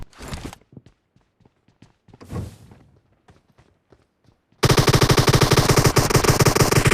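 Automatic gunfire in the video game PUBG, a sudden loud rapid burst of shots after quieter footsteps and scattered thuds, close and sustained to the end.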